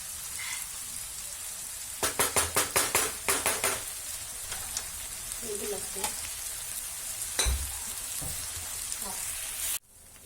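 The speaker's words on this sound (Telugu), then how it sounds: "ఈ వెజిటబుల్స్ అన్నీ కుక్ అయ్యే వరకు మనం వీటిని లిడ్ పెట్టకుండా ఇలాగే తవా మీద ఫ్రై చేసుకోవాలి." Chopped tomato and boiled green peas fry on a hot tawa for street-style tawa pulao, a steady close sizzle broken by a quick run of sharp metal spatula taps and occasional scrapes, ending abruptly.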